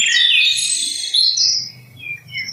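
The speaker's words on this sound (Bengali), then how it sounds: "গাছের মাথায় পাখিদের কিচির মিচির ডাকে" Birds chirp and tweet in quick, bright bursts, fairly close and steady, with a faint low murmur underneath.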